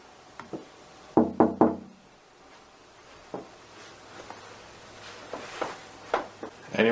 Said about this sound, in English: See what happens if I knock on it.